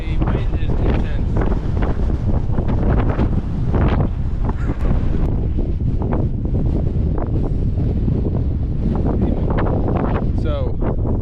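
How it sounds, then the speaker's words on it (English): Strong wind at Thingvellir National Park in Iceland buffets the microphone with loud, continuous roaring and rumbling gusts throughout. "The wind is intense."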